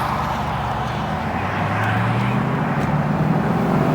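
A 2003 Ford Mustang Cobra engine pulls away in first gear, a loud, steady low drone rising gradually in pitch as the car accelerates, heard from inside with road rumble.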